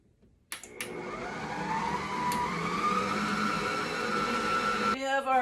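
An electric mixer whirs steadily as about a cup and a third of powdered sugar is beaten into rum and coconut buttercream frosting, starting up abruptly and running loud and continuous for several seconds.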